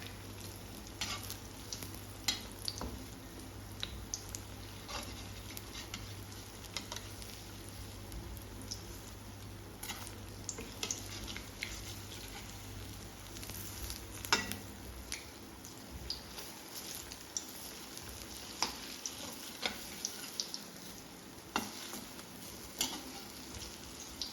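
Sliced robusta banana snack sizzling in a pan after being flipped, a steady faint crackle and bubbling with small pops, low hum underneath in the first part, no voices.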